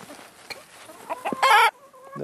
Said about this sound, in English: That chicken just stole your bread.